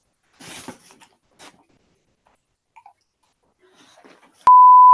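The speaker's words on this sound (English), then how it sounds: "Another beep." A single loud, steady electronic beep sounds alone near the end, after a quiet stretch with a few soft rustles and a brief burst of breathy noise.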